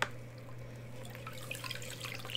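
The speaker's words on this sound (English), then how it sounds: "All right, so now I'm gonna rinse." Resin-coated art pieces rinsed under a running tap, a steady close water stream with faint drips and splashes throughout, and no talking.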